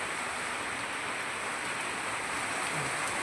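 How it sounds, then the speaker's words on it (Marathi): Rain falling steadily outdoors in a village, a dense even hiss of drops that stays constant from start to end with no talk. "आता पण पाऊस पडतो बघा."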